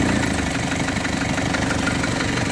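Diesel engine of a KIA Pregio van, just started after glow plug warm-up, idling steadily and loudly with a continuous low knocking rumble close by.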